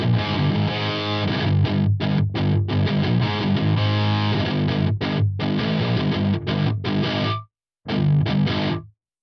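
A heavily distorted 7-string electric guitar, picked up by an E609 microphone, plays dense, loud palm-muted riffs with sharp stops and a final short chord after a brief gap.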